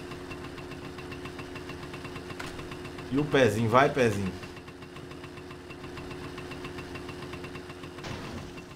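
Tractor engine idling in the My Summer Car driving game, a steady low mechanical drone throughout, with a voice briefly talking over it.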